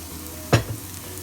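Cumin seeds dropped into hot oil in a frying pan while cooking a Tamil fenugreek-leaf (methi) dish, giving one brief burst of sizzling that quickly fades to a low background hiss.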